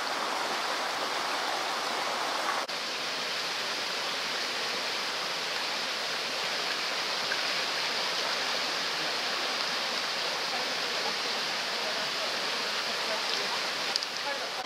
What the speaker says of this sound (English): This again is the River Arle, variously known from this point onwards as the Arle or the Itchen, and this is the Fulling Mill.